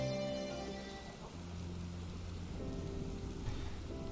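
Steady rainfall in Final Fantasy XIV, a soft continuous hiss of rain beneath calm game music with sustained tonal notes, no voices.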